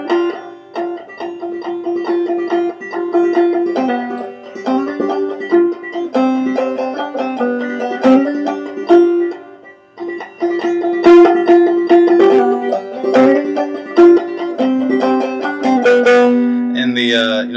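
A clawhammer banjo plays a tune, with bright plucked notes and brushed strums in a steady bouncing rhythm, close and clear throughout without any voice.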